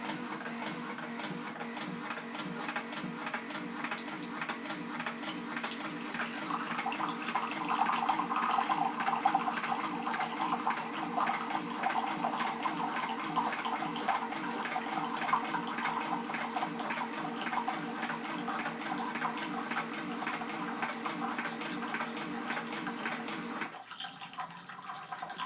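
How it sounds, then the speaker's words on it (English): A Keurig 2.0 K200 coffee maker dispenses a six-ounce cup of hot water, a steady near pour with a low rhythmic pumping hum throughout that stops cleanly near the end, without any talking. "Okay, so it dispensed the cup of hot water."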